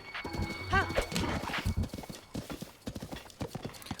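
Horse hooves clip-clop steadily in Zelda: Breath of the Wild, with a high whinnying neigh rising early on, all beneath a dense game soundscape.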